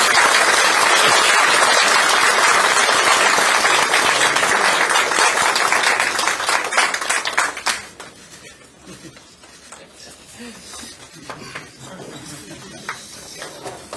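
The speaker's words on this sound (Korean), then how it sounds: "격려의 큰 박수 좀 부탁드립니다" A crowd at a Democratic Party meeting in Yeonggwang, South Korea, claps loudly and steadily for about seven seconds, then the applause dies away into scattered claps and quiet room noise.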